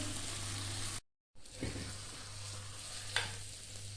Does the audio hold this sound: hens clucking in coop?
no